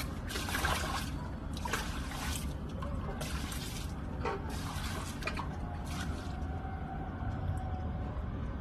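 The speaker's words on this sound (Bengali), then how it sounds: "এবার জল দিয়ে একটু ধুয়ে দেবো" Water poured over freshly planted garden plants to rinse off mud, a continuous splashing trickle with bursts of heavier pouring, close and fairly loud with no talking.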